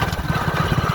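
A motorcycle engine runs on a rough farm road, a steady low throbbing idle-like rumble with regular pulses, close and continuous for the whole moment, with no voices.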